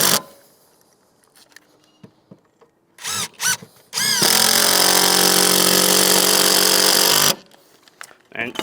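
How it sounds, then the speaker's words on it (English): A power drill screws a roof tile fixing down into a rafter during a solar panel installation, with a couple of short bursts then one sustained loud whirring run of about three seconds, set among quiet pauses. "Now we would screw that down into the rafter,"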